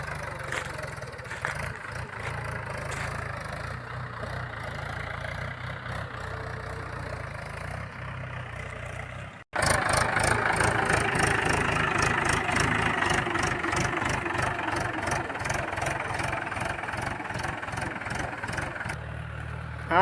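A tractor engine on a farm fires up partway through and settles into a loud, steady rhythmic chugging idle, close by, after a quieter stretch of low engine hum; no speech.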